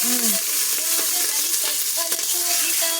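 Onions fry in a pan for a carrot and soya chunk biryani, a continuous bright sizzle close by, with occasional clinks and stirring scrapes.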